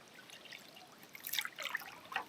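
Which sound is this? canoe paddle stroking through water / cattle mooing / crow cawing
canoe paddle stroking through water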